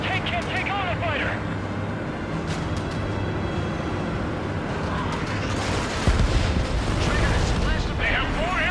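Dense Ace Combat 7 battle noise of gunfire and explosive missile blasts, continuous and loud, with a heavy boom partway through.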